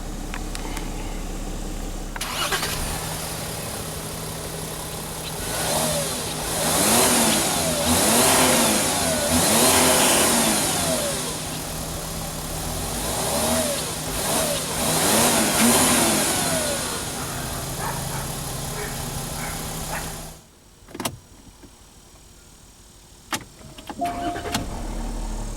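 2013 Porsche Cayenne Diesel starting, its engine catching and settling into a quiet, even idle with a slight rev rise, heard close for about eighteen seconds before going silent, followed by a few faint clicks.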